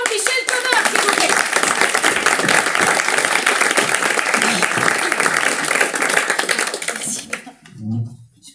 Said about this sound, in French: je vous demande de l'applaudir bien fort, Michel Thomas